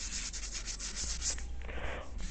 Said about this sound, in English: sanding with the straight edge at the back